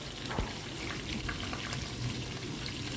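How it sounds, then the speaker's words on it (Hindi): Onions frying in hot oil in a pan for chicken korma, a steady dense crackling sizzle that stays even throughout, close and moderately loud with no voices. "और इसमें हमने डाल दिए प्याज, क्योंकि प्याज को करना है हमने ब्राउन।"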